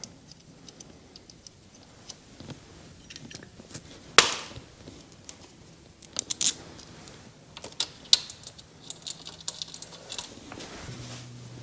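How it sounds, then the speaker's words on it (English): Metal bolts from a 2017 Kawasaki Versys fairing are handled and pushed back into their holes, producing scattered faint clicks, light taps and one sharper metallic clink against a quiet room. "I'm just going to stick these bolts back in here so I don't forget where they go."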